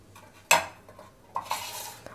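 Milk, sugar and milk powder are mixed in a pot, with a sharp clink of a utensil against the metal followed by softer scraping and a couple of lighter taps.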